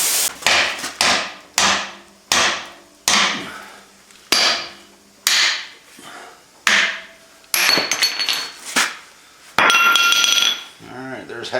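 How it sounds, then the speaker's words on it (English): A hammer strikes a steel chisel to cut it in half while working on F150 leaf spring pads: about a dozen loud, ringing metallic blows in a steady rhythm, each fading quickly, close by and with no talk. "Try to cut my chisel in half so I can get it out."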